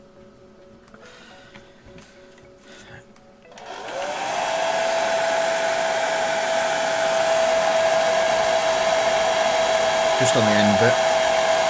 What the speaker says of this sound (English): what I'm going to do is employ a hairdryer